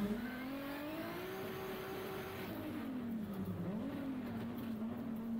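Race car engine pulling hard through the gears, a steady climbing drone that dips briefly at a shift into third and then rises again, loud and continuous with nobody talking.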